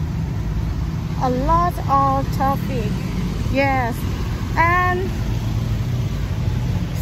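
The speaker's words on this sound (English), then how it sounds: "A lot of traffic" Road traffic rumbles steadily as cars pass on a busy street, a continuous low drone under a voice speaking close by.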